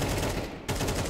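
Rapid, dense gunfire from Counter-Strike 2 fills the second as loud, close bursts, with a brief gap partway through before the shooting resumes.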